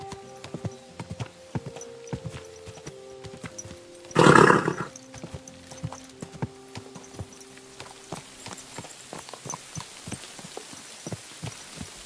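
Horse hooves clip-clop in an uneven walking rhythm in the video game Kingdom Come: Deliverance II, close by, with a short loud burst of noise partway through.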